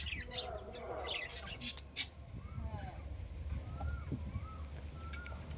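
Double red factor pineapple conure parrots give short rising and falling chirps, fairly faint against steady background noise, with a couple of sharper bursts early on.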